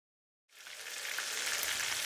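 Breaded Cuban-style steaks frying in a pan, a steady crackling sizzle that starts abruptly after a brief silence and holds at a constant level.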